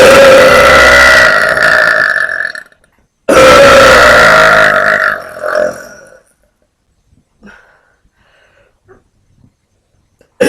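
Two very loud, long, deep burps in a row from a woman, each rumbling for a couple of seconds close to the mic, followed by a faint gurgle and near silence.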